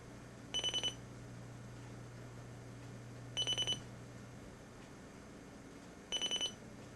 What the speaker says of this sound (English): set the buzzer alarm, and we'll go ahead and set that off